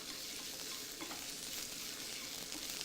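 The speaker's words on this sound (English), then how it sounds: "In goes a little bit of vegetable oil. We're just going to warm that through. And into that goes some chopped onions." Chopped onions fry in vegetable oil for an Indian omelette, a steady close sizzle with faint stirring and no talk.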